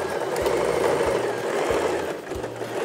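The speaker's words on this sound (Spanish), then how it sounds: "Ahora pasamos a la máquina. Entonces vamos a coser con costura guardada, costura francesa." Sewing machine running in short, even bursts while stitching a French seam on stretch fabric for an off-shoulder peasant blouse, its motor hum steady and close, with pauses between runs.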